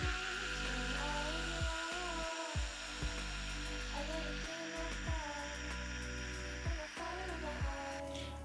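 Machine polisher with a cutting pad working the paint of a BMW E30 during a cut and polish, a steady high whine running throughout with brief dips and pitch sweeps as the speed changes or the pad lifts.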